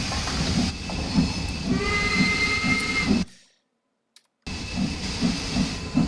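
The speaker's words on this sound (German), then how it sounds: "So, und dann dampft es hier im Trainingscenter." Steam locomotive in the Train Sim World 4 training center, a steady loud hiss of steam over a low rumbling chug that cuts out to near silence for about a second before resuming.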